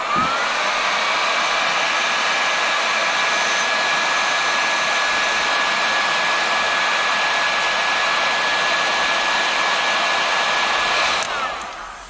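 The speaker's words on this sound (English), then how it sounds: "Let's heat shrink him up." A heat gun blows a steady, loud whooshing hiss with a faint high whine while shrinking heat shrink tubing over moped LED headlight wiring, running continuously before switching off at the end.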